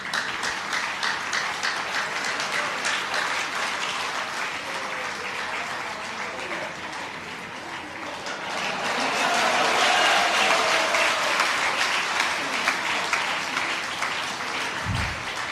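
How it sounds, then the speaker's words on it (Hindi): Sustained audience applause at a Hindi religious discourse about charity, a dense steady clapping that swells louder in the second half, with faint speech-like murmurs underneath. "आपकी तालियां बता रही,"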